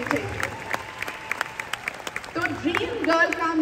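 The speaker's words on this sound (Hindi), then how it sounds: "तालियां बजती रहनी चाहिए" Applause at a live concert in Dallas, a crowd of hands clapping in scattered sharp bursts that swell toward the end, with someone talking over it and faint music behind.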